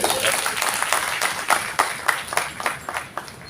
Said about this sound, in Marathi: एकदा आपण याच्यासाठी टाळ्या वाजवल्या पाहिजे